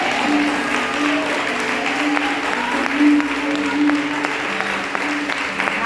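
Audience applauding at a church women's seminar, a steady wash of clapping from a congregation across the whole stretch, with a sustained tone and faint voices underneath.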